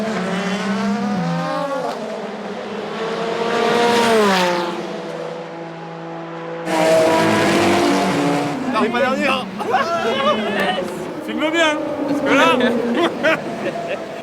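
Ferrari race cars at the 6 Hours of Monza endurance race, engines rising and falling as they pass wheel to wheel, loud and close, under excited commentary and crowd noise.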